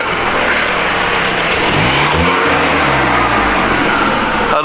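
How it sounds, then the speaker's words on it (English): A VW GTI turbo spools and whooshes as the car accelerates, a loud, close engine drone with a rising whistle and sweeping pitch changes, heard alone without talking. "Please wear headphones for maximum whoosh noises."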